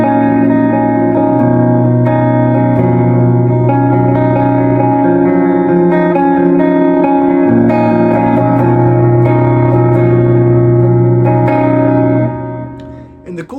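Clean electric guitar chords from a Gibson Les Paul Studio's neck pickup, a Gibson Dirty Fingers, ring out with warm tone, washed in reverb and echo, strummed steadily and sustaining over several bars.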